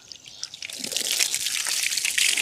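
Water is splashed and poured over a seat that has just been scrubbed with shampoo. The hiss of water rises and stays steady, close and moderately loud, with no talking.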